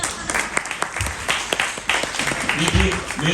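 Audience applause at a comedy show in London, a steady wash of clapping from a crowd with a voice talking over it.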